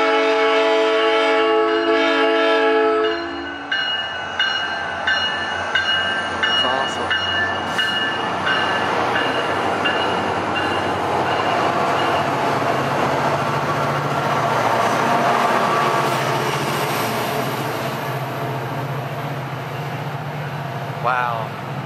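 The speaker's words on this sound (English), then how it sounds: "there's a train coming through right now" A SunRail commuter train passing the Kissimmee station, opening with a loud multi-tone horn blast, then a long rolling rumble and clatter of cars going by up close, fading slightly toward the end.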